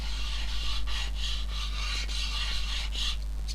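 An art crayon rubs across a gesso-primed surface in repeated short, scratchy strokes, quiet and close over a steady low hum.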